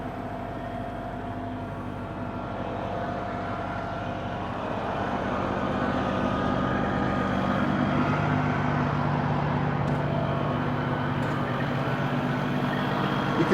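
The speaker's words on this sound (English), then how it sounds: "Now the truck will roll forward on its own as it's pushing the seat out." A semi truck with its hydraulic wet kit running rolls slowly forward on its own as its walking floor trailer pushes out the load, a low, steady mechanical rumble and drone that builds gradually louder and holds, with occasional faint clanks.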